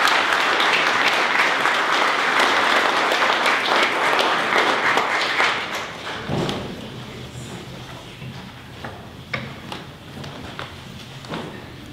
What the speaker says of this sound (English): Is everyone's hands tired from the clapping?